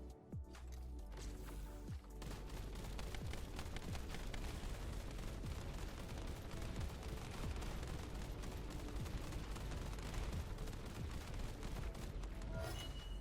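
Weapon fire against the Devourer boss in The First Descendant, with a rapid, continuous barrage of shots and explosive booms that keeps going at high intensity after a brief quieter start.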